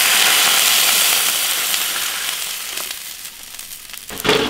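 Water hits a hot iron wok holding pork trotters, bursting into a loud, dense sizzle and hiss that slowly fades and thins, followed by a few clanks of a utensil near the end.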